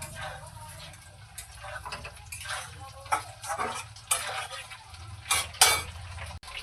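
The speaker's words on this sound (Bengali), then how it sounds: "এখানেও ভাজছি।" Chicken pieces for chilli chicken frying in white oil, with steady crackling hiss under repeated clanks and scrapes of a spoon against the pan, sharper metallic knocks near the end.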